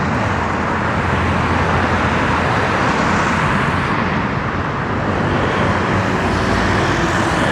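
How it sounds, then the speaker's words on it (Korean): Steady road traffic roar from cars passing along a city street in Daegu, a continuous broad wash of engine and tyre noise heard close and loud with no talking. "차 소리가 어느 정도 많이 들어가는지 잘 모르겠습니다"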